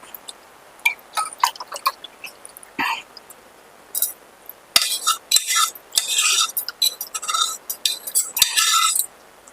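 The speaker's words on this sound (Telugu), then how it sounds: "బెల్లం ఇది బాగా కలబెట్టుకోవాలి మనం" Jaggery stirred into milk for junnu, a spoon clinking and scraping against a metal vessel in scattered bursts, louder and busier in the second half, close and with no one speaking.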